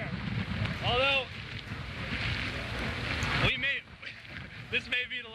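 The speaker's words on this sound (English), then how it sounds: "We've got wind gusts now over 70 miles an hour, so 74, we're up to hurricane strength now without a problem." Hurricane Ivan's gusts roar as a dense, steady rush of wind noise against the microphone, easing abruptly partway through before surging again, with brief chirping sounds over the top.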